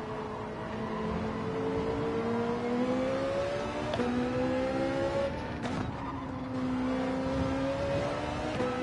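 A Ferrari engine in Gran Turismo 7 drones at high revs from the cockpit, with the pitch climbing and dropping through gear shifts and a brief tire squeal midway.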